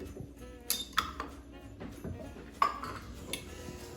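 A spoon stirs Scotcharoos mixture with melting peanut butter in a pot held off the heat, giving scattered scrapes and light metallic clinks against the pot, close by and moderately quiet.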